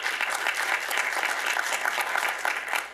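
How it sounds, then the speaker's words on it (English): Applause at a community health press conference, continuous, fairly loud clapping from a crowd that holds steady before easing slightly at the end. "You can clap too for Dr. Tuso."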